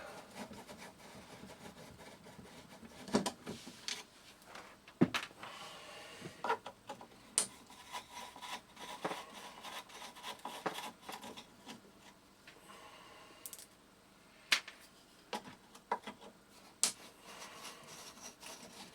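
Screws being removed from the cabinet of a 1959 Ecko U353 AM/FM valve radio: scattered close, sharp clicks, scrapes and small knocks of a screwdriver against wood, irregular and fairly quiet, with no talking.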